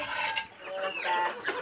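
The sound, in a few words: chickens clucking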